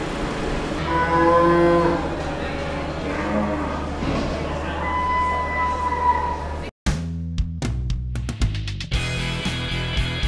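Brangus heifers lowing repeatedly at a large mechanized Australian cattle farm, several drawn-out moos overlapping over steady background noise, followed by a sudden burst of clanking metallic knocks near the end.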